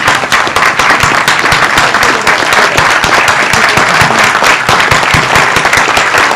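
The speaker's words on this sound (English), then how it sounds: "give a round of applause to everybody from Steamboat Springs" Loud, close, vigorous applause with sharp individual claps from a standing audience at an art exhibition gathering, sustained and even throughout.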